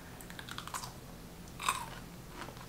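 A single crisp crunch as someone bites into a homemade sweet 14-day pickle, close and quiet, with a few faint smaller crunches and chewing sounds around it and no talk.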